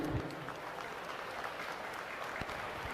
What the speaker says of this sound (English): Give these kids an applause as they leave.